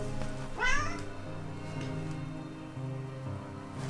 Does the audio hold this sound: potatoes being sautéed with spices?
no